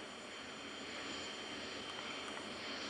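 A passenger airliner roars down the runway on a flight from Madrid to Berlin, a steady, loud broadband engine rush heard from inside the cabin with no voices.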